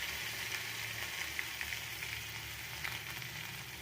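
Onion, garlic and green chillies sizzle steadily in hot oil with black cumin seeds, an even, close frying hiss with no voices over it.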